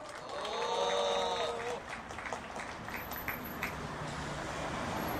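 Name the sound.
applause welcoming the union chairman to the rally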